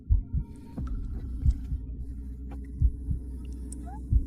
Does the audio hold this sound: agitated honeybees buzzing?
no